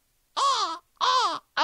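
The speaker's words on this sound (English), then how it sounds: "That's the fucking bird." A crow caws loudly and close by in three harsh, evenly spaced calls, each about half a second long, with nothing else heard in between.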